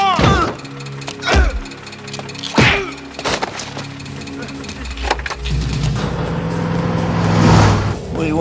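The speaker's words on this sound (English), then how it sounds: "You hit my car!" A car is struck in a collision: several sharp, heavy whacks and thuds land in the first few seconds, followed by a rumbling, noisy stretch with voices talking over it.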